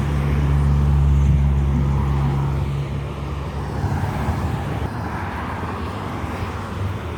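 A small truck passing on a road in the USA, a loud engine rumble close by at first that fades into steady traffic noise and wind.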